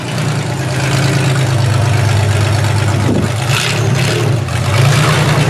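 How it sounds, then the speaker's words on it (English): Toyota Camry fitted with a 3100 Lumina engine running, a steady loud low rumble of idling or cruising with slight swells, heard close with no talking. "sorry, the 3100 Lumina motor inside the Camry"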